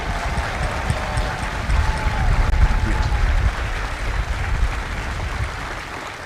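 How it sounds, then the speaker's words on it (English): Crowd applause for drill instructors and families at a Marine Corps recruit graduation ceremony at MCRD San Diego, steady clapping from a large outdoor audience lasting several seconds and swelling slightly in the middle. "please join me in a well-deserved round of applause for the drill instructors and the"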